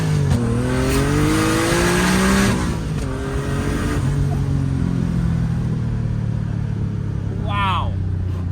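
A turbocharged S54-engined BMW E30 roars as it accelerates hard, rising through gears with a brief shift dip, loud and close, with speech near the end.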